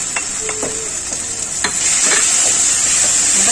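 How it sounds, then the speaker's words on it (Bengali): Fried potatoes tumble into a sizzling katla fish-head masala, a steady loud frying hiss with a few sharp clinks and scrapes of stirring, no voices. "আমি এবার কাটা ডুবো ডুবো ভেজে রাখা আলুগুলো দিয়ে দেবো"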